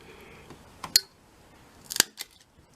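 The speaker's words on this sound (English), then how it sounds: "Now you use your hole punch." A handheld hole punch snaps through thin material to make an axle hole, two sharp crisp clicks about a second apart, close and clear with no talk.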